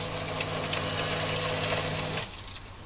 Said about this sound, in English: the sump pump had not only been very badly installed, it also lost water from a fracture in its pump casting